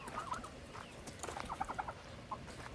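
Domestic chickens in a homestead pen cluck softly in short, irregular bursts that cluster into quick runs of clucks, with no talking over them.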